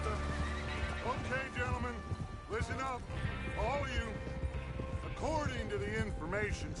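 Horses whinny and neigh repeatedly in a Red Dead Redemption 2 gang scene, with clip-clopping hooves and a steady background hum beneath.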